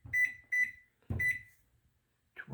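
Oven timer being set, giving three short high electronic beeps in quick succession, then another beep after a brief pause, close and clear in a quiet kitchen.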